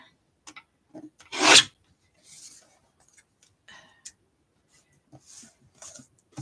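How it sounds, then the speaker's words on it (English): A paper trimmer slices a large floral-patterned card, with one brief rasping swipe of the blade amid scattered soft clicks and taps of paper handling, all quiet and close. "We are going to trim at 5 1/4."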